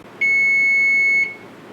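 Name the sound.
kitchen timer beeping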